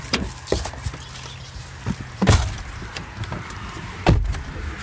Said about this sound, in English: we're gonna fire up the car and take a little ride